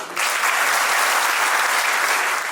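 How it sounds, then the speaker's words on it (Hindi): Loud, sustained applause fills an auditorium at a book release ceremony, a thick, even roar of many hands that starts abruptly and holds steady throughout. "एक बार वो जोरदार तालियां कैसी होंगी एक बार इस सभागार में उसको बजाकर दिखा दीजिए"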